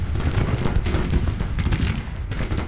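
Musket volleys and artillery fire on a Civil War battlefield in Grand Tactician: The Civil War, a dense rolling crackle of rifle shots with deep booms, continuous and loud with no talk.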